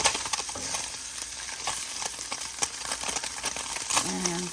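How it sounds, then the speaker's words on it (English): Food frying in grass-fed butter in a pan, a dense close sizzle with scattered pops and crackles throughout, and a short voiced sound near the end. "And I'm frying it in some butter, grass-fed butter."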